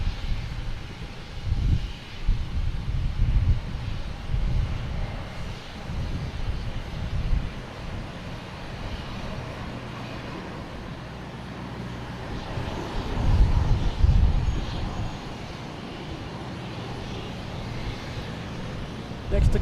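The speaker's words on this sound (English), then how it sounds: "American Airlines taking off, heading to Dallas." An American Airlines airliner takes off at Boston Logan, a distant rumbling roar under wind buffeting the microphone while a person talks over it at intervals.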